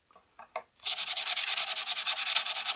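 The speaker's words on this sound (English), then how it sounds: "This is really just cleaning the frets and polishing them." Frets on a Fender Squier Telecaster polished with fine-grit abrasive of 500 grit and up, heard as a close rhythmic back-and-forth rubbing scrape after a few faint taps.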